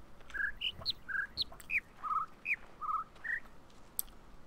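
Birdsong in the video game The Witness: a run of bright, short chirps and whistled calls, several birds repeating in quick succession, clear and close over a faint ambient background.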